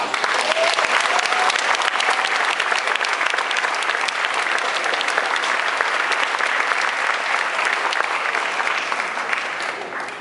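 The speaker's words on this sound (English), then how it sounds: "let's give them a big round of applause" Audience applause at an Art Maui 2013 event, a steady, dense wash of many hands clapping that holds loud for about ten seconds before easing slightly at the end.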